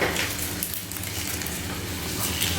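Dry red chilies and a bay leaf hit hot oil in a pan, producing a close, steady, crackling sizzle that runs continuously without a break.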